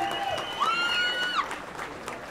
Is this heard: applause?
yes